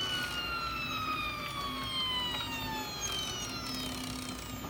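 An Ultimaker 3D printer feeding filament through to the nozzle, a steady motor whine with descending tones gliding downward over a continuous mechanical hum, close and moderately loud.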